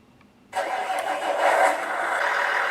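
A simulated truck engine sound from a Beier SFR-1 sound controller in a Tamiya model semi truck cranks and catches without a cold start after a short quiet moment, then settles into a steady rumbling idle that swells slightly and holds.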